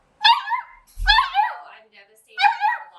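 Puppies whimper and give high yips in three short bursts, close and alone, with a brief low bump between.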